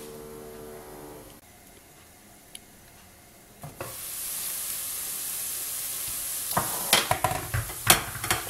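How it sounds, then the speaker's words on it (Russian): Onions hit a hot pan for stewed cabbage: after a near-silent start, a strong, steady sizzle begins, and a few sharp clinks of stirring near the end sound over the frying. "обжариваем 2-3 минуты до прозрачности, до золотистого не надо, периодически помешивая"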